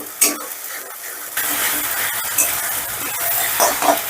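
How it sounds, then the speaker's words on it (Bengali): A paste of onion, ginger, garlic and green chilli frying in a pan gives a loud, steady sizzle, with sharp stirring scrapes at intervals. "এবার এই মশলাটাকেও আমি বেশ ভালো করে কষে নেব, ধরো 2-3 মিনিটের মতন কষে নেব"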